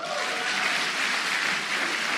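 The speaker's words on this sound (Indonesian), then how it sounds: "Anda boleh tepuk tangan" An audience at a talk breaks into a brief burst of steady, even clapping that fills the room for a couple of seconds. No one speaks over it.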